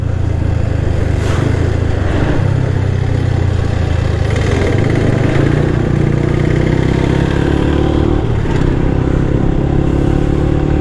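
A Royal Enfield Bullet motorcycle engine runs steadily and loudly nearby, a continuous low thumping rumble with faint mechanical clatter throughout.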